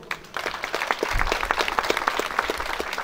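Applause from a crowd at a Mexican patron saint festival, steady dense clapping that swells after a brief quiet start and holds for a few seconds.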